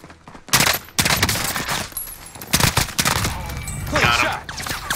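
Rapid bursts of gunfire from the video game Warzone on Rebirth Island, loud and close, with shots clustered in quick volleys and a player talking over the action throughout.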